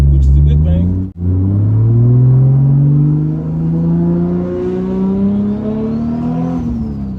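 A Lexus SC300 with a 2JZ engine runs close and loud in winter, its engine note climbing steadily in pitch as it revs up, with a brief dip in volume near the start.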